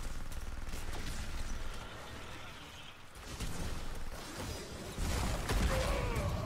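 Tychus's minigun spinning and firing in Heroes of the Storm, a dense, steady stream of rapid gunfire with whooshing game effects that swells louder toward the end.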